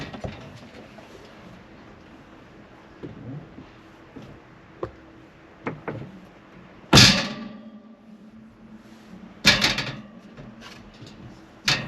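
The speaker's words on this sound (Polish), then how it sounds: "No i testing, testing, zamykanie drzwi." A camper van door is pushed shut, giving a sharp, loud slam followed by a second heavy bang a few seconds later, amid quieter clicks and knocks from earlier fiddling with the latch.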